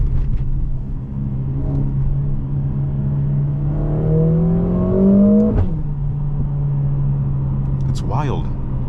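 A Mercedes-AMG GLA45 four-cylinder in Sport Plus mode downshifts with a sharp blip, then pulls hard with a rising, droning engine note heard from inside the cabin, easing off to a steady hum; someone talks over it.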